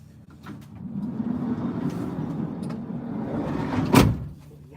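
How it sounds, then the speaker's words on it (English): A van's sliding door rolls along its track amid background rumble and ends in a sharp loud slam near the end. "Hang on, just close the door in the van, guys."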